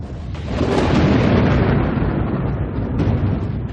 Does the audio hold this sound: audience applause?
no